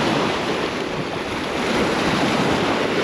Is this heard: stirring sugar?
no